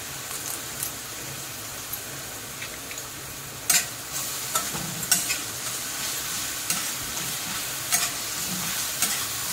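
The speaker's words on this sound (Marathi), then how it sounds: "चांगलं असं परतून घ्यायचं। त्याच्यानंतर आपण हा कढीपत्ता टाकूया।" Curry leaves sizzle steadily in a frying pan while a spoon stirs through them, with sharp spatters and scraping clicks popping above the continuous close frying hiss; no talking.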